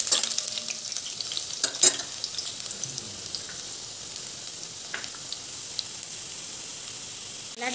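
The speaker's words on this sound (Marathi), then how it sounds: "तेल गरम झालेले आहे, त्यामध्ये लसूण गोल्डन होतपर्यंत शिजवून घेऊ।" Garlic frying in hot oil in a pan makes a soft, even sizzle, with a few sharper crackles and stirring taps near the start before settling into a quiet hiss.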